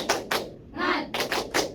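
A primary school class does the 'tepuk semangat' rhythmic clapping chant during a Pancasila lesson: two sharp claps, a short shouted syllable, then three more quick claps, close and fairly loud.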